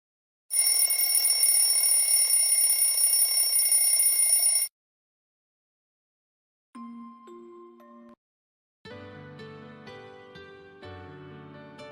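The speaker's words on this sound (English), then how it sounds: "The sound of an alarm clock penetrates your skull like a jackhammer." A shrill, buzzing alarm clock rings continuously for about four seconds, loud and close, then stops; after a silence, short electronic chime tones follow.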